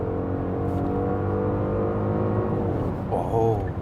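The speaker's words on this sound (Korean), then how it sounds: "아직도 배기음을 들을 수 있고, 그리고 배기음이 거슬리지 않고" A facelifted Genesis G80 engine drones steadily with a low exhaust rumble, rising in pitch briefly near the end as it accelerates; no clear talk.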